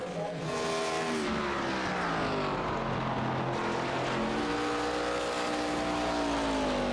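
Race cars lap the Iowa oval in an ARCA racing video game, and several engine notes climb and fall in pitch as they pass. The engine sound runs continuously at a moderate level.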